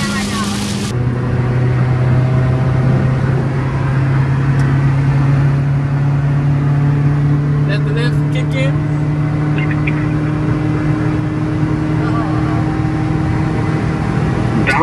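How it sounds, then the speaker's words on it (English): Car engine bouncing off the rev limiter, a loud sustained drone that holds steady for most of the stretch with talk over it. "On the rev limiter"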